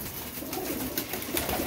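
Pigeons cooing in a short burst of soft, low, rounded calls, close by and fairly quiet, with no talk.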